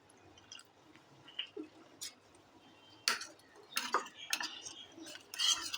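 A spoon stirs cornflour into water in a small bowl, producing scattered light clinks and scrapes that grow busier and louder toward the end, with no talking.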